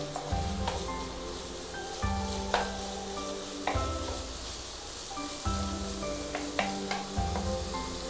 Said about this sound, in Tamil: வெங்காயம் நல்லா ப்ரௌனாக ஃப்ரை ஆகணும்.